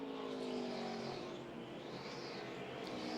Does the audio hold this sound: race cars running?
yes